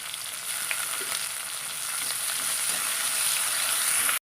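Onions sizzle and fry steadily in a pan for a sardine curry, a dense crackling hiss that holds close and even throughout, with no voices.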